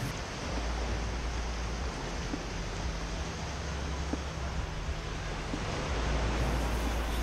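Sea waves washing onto a sandy beach on an overcast day, a steady broadband surf roar with a low rumble throughout, wind blowing across the microphone, no voices.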